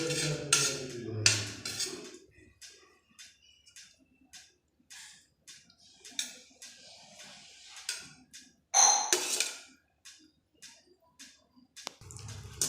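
Salad ingredients stirred with yogurt in a bowl: soft wet squelches and light scrapes in irregular bursts, close and fairly quiet, with a few sharper clinks of a spoon against the bowl.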